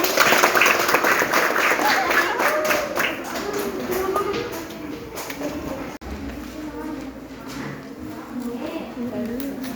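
Applause from pupils in a classroom, clapping fairly loudly and continuously before tapering somewhat, with children's voices and chatter mixed in throughout.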